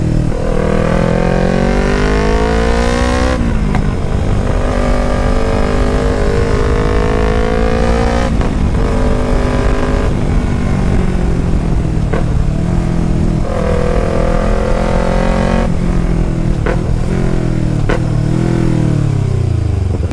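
Yamaha R3 sport motorcycle on the move, its engine revving up through repeated climbing pulls with short drops between gear changes, loud and close the whole time.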